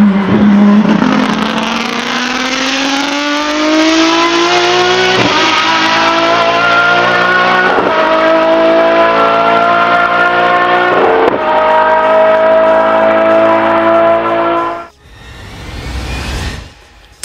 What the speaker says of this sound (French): la Lamborghini Essenza SCV12 développe un son assourdissant grâce à son V12 atmosphérique